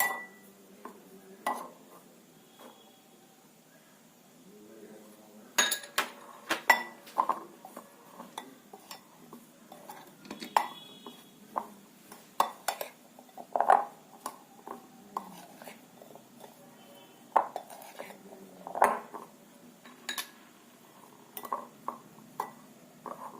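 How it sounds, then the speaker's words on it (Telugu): Soaked palm sprout (tegalu) pieces, steeped in lemon juice, drop into a bowl in a string of light knocks and clinks of crockery and utensils, scattered irregularly over a quiet kitchen background. "తేగ ముక్కలు వేస్తున్నాను"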